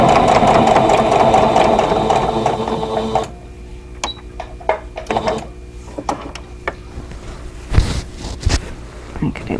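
A sewing machine overstitches a quilted pillow cover, running in a steady close whirr for about three seconds before stopping, followed by scattered clicks and handling noises.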